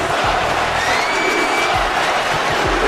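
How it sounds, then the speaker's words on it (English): A wrestling crowd booing at a live event, a dense, continuous roar of many voices filling the whole moment at steady high volume, with a few low thumps underneath. "The crowd here still booing away"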